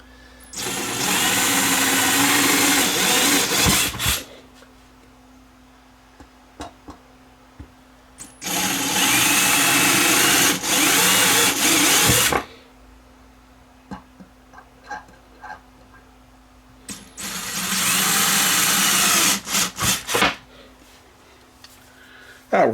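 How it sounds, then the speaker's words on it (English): A power drill whines loudly drilling holes in a speaker chassis, in three long bursts of several seconds each, with quiet pauses and small clicks between them. "We'll drill 4 holes and get the speaker mounted."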